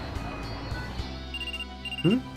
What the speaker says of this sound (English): Oh, my cell phone.